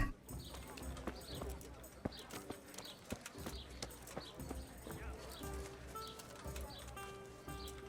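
A horse's hooves clip-clop at a walking pace on hard ground in the medieval video game Kingdom Come: Deliverance. The steady, even footfalls are accompanied by light birdsong chirps in the background.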